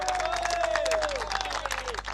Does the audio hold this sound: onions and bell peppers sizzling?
no